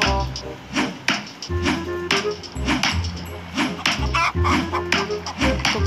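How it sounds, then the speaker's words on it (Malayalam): Chickens clucking on a pirate island in a survival video game, short repeated clucks and calls in a loose rhythm, mixed with tapping and chopping sounds from the game. "കോഴിയുടെ സൗണ്ടൊക്കെ കേൾക്കാം ഗൈസ്."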